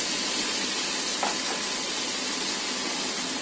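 Steady broadband sizzle of chicken frying in a pan of cooked spice paste, even and continuous, with no talking over it.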